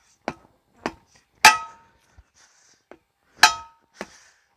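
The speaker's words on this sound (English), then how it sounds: "Take your hammer and knock your tire off the bead." Hammer striking a rusty tire to break it off the bead, several sharp metallic clangs spaced irregularly with quiet gaps between blows, close and loud.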